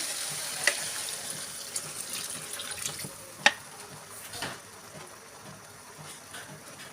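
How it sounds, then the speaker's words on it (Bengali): Water is poured into a pan of raw jackfruit curry to make gravy, a quiet continuous trickle with a few small splashes and clinks, no talk. "ঝোলের পানি দিয়ে দিলাম।"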